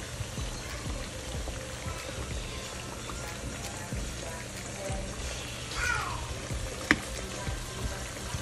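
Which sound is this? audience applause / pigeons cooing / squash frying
squash frying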